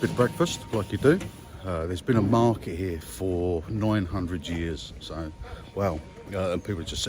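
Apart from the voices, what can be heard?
No everyday noise stands out behind the speech.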